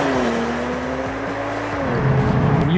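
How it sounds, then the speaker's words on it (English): A 2022 Genesis G70 in Sport Plus hums steadily from inside the cabin, its engine and opened sports exhaust holding a smooth drone that dips and then rises with throttle toward the end. "You've got this in Sport Plus with the hair trigger throttle and the sports exhaust opened up a little bit so you can hear even more of it"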